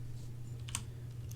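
Typing on a computer keyboard while entering a search into Steam: a few faint, sparse keystroke clicks over a steady low hum in a quiet room.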